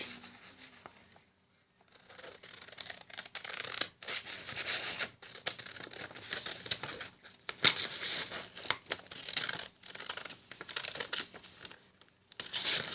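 Scissors cut paper along its edge while folding a paper boat, giving close, soft scratchy snipping and crinkling in irregular bursts with short pauses.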